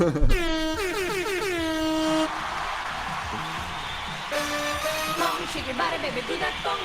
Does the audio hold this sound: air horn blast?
yes